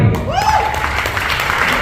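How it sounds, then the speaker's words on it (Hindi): An audience at a motivational team achievers' gathering claps in a short, dense burst of applause, with a rising electronic tone sweeping through it near the start. "ये तालियां बहुत कम है मुझे लगता है"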